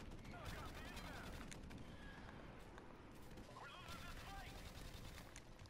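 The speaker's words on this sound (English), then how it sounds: "Jesse, I picked up the Xm-Lar. Like, one of the new weapons in Modern Warfare" Rapid bursts of XM-LAR rifle fire in the Modern Warfare video game, loud and dense over busy game sounds, with a voice partly heard over it.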